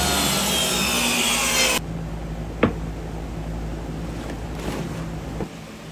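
Power saw ripping scrap wood into 1.5-inch slats: a loud, steady broadband cutting roar for the first two seconds, then the blade spinning down, with a sharp knock and faint workshop rattles after.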